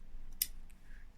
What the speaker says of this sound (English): if you take your fabric scissors, we can cut in towards the edge